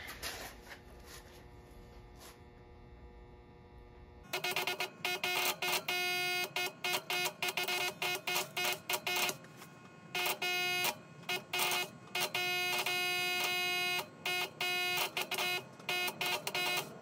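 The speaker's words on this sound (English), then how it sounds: "I just cut that off with the tip, with the heat of the carbon rod" Homemade carbon arc torch using a carbon rod to cut metal: after a quiet start, a loud, harsh electrical buzz kicks in and sputters on and off in uneven bursts.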